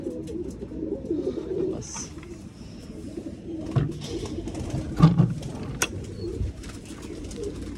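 Pigeons in a loft give low, throaty coos, with a few louder bursts midway, over faint rustling and a shuffle of wings nearby.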